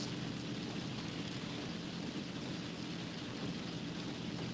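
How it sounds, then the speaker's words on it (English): Rain drumming steadily on a car's roof and windshield while driving, a dense, even wash of hiss that stays constant throughout without breaks. "Oh, the rain is pretty loud."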